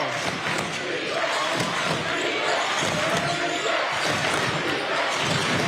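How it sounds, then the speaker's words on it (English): Loud crowd cheering and roaring fills a packed high school basketball fieldhouse during a close game, sustained and dense throughout with no clear voices standing out. "The Stifel Fieldhouse is loud and packed"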